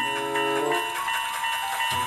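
A train in the video game Jurassic World Evolution 2 gives a steady whistle-like tone with rumbling, mechanical noise underneath, continuous and fairly loud throughout.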